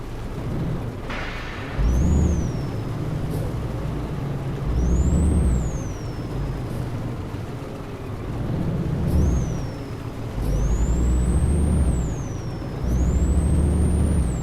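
A deep, rumbling truck engine in Euro Truck Simulator 2 swells and fades repeatedly, with several high squealing air-brake whines rising and falling over it, loud and close.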